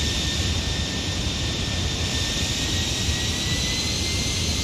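Steady, loud jet engine roar heard from outside an airliner in Microsoft Flight Simulator 2020, a continuous broadband rush with a high whine, unbroken throughout and with no talking.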